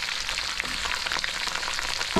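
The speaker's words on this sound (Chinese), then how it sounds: "翻炒。" Chilies, ginger, garlic and Sichuan pepper stir-fried in a wok, a loud, steady, dense sizzle with faint scraping from stirring, close up and without voices.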